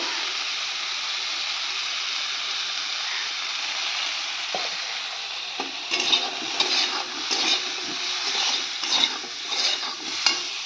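Cumin powder hitting hot oil in a pan makes a loud, even sizzle, then a spatula starts stirring, adding rhythmic scrapes and light knocks over the hiss.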